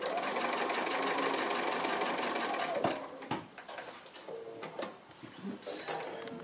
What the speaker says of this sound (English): So we're just starting to sew a little bit beyond the actual line into this other area that's going to be covered up